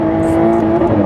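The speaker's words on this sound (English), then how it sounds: "Did you hear it bouncing off the limiter then?" A Jaguar F-Type engine revs hard in second gear and bounces off the rev limiter, giving a loud, steady, close-up drone with a rapid stuttering pulse and no talk over it.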